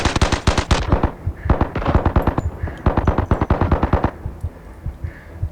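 Rapid bursts of AUG rifle fire in the VR shooter Zero Caliber Reloaded, loud and close, in several quick automatic strings with short pauses between them.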